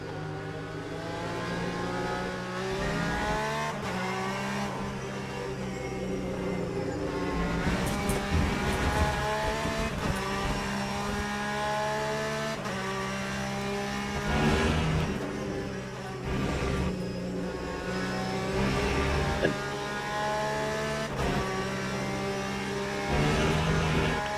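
Race cars roar around a track in the Le Mans Ultimate sim racing game, with a continuous loud engine drone, rising and falling revs through gear changes and occasional passing cars over the full stretch.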